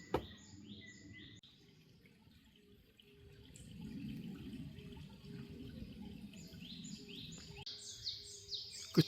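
Birdsong in a deep forest, several faint chirps and trills scattered across the clip over a low, gentle background rustle, with no talking.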